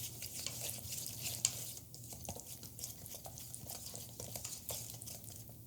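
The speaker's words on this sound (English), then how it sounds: "Grab your trusty chopsticks and give it a good stir." Chopsticks stir a black bean sauce made with Shaoxing wine and white pepper in a bowl, giving soft, continuous swishing and light scraping, faint and close with no voices.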